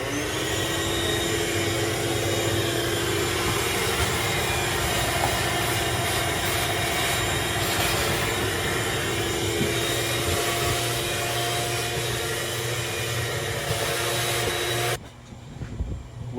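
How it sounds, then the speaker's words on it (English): A vacuum cleaner runs continuously inside a motorhome, a loud close whine and motor drone over about fifteen seconds that then cuts off abruptly. "first thing is vacuuming all the little areas"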